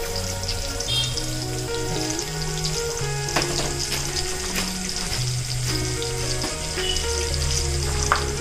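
Mustard seeds and a chopped small onion fry in a pan in a steady, close crackling sizzle with scattered popping, no voices over it.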